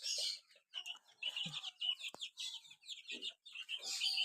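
Hill chickens on a farm clucking and calling continuously, several birds close by with overlapping short clucks and a few sharper calls throughout.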